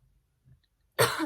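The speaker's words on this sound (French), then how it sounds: "Je sais pas pourquoi je tousse là d'un coup." A single short cough or throat clear, close and abrupt, after near silence.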